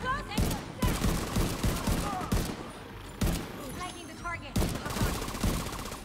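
Gunfire from a turret in the video game The Division 2: repeated rapid bursts of automatic shots in short volleys with brief gaps, loud and close, with occasional talk between bursts.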